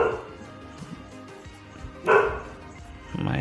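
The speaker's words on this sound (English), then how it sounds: "So sorry for the bark" A dog barks a few times indoors, with a loud bark near the middle and another at the end, fairly close and cutting over a quiet room.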